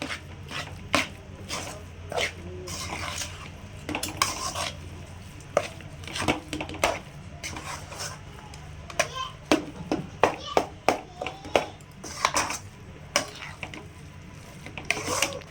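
Repeated scraping and clinking of a spoon against a pan while stirring poori masala, irregular stirring strokes with a steady low background hum.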